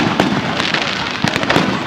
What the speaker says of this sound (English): Some random person going right next to the fireworks and just lighting off one random one.